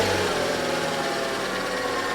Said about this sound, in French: Va enlever une vitesse et démarre le moteur.